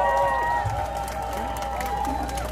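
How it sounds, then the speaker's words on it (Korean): A crowd at an outdoor election campaign rally in Nampo-dong, Busan, applauds and cheers, with a murmuring roar of voices and scattered clapping under a sustained tonal hum. "큰 박수로 맞이해 주시기 바랍니다"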